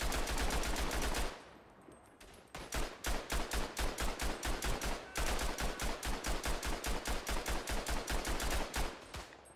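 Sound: gunfire in a video game

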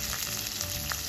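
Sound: curry leaves and chilies sizzling in hot oil

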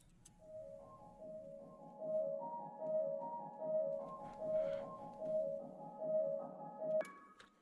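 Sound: arpeggiated piano from Labs plugin

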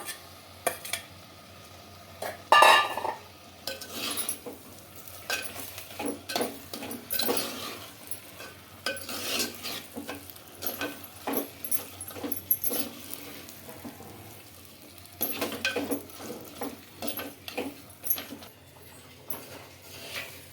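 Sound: stirring spiced chicken in a clay pot

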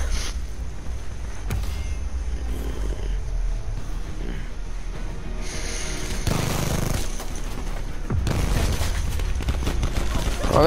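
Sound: gunfire in video game Call of Duty Black Ops 4

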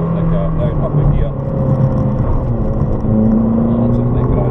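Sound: Ferrari California engine driving and changing gears

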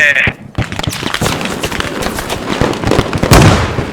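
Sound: explosion in the video game Squad

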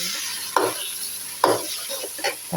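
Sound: onions sautéing in a pan

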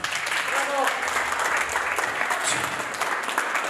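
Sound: wedding guests applauding

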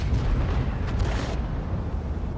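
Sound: artillery explosion in tank video game

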